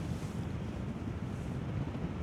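Strong gusty wind buffets the microphone at a paragliding launch site in the Bayerischer Wald, a steady loud low rumble with no speech.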